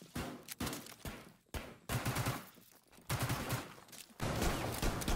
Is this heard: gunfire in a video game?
yes